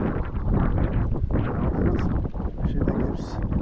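Steady wind buffets the microphone in a continuous broadband roar while fishing from a boat on Lake Shaori, with gusts and no clear pauses.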